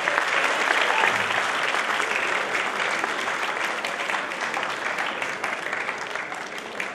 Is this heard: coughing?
no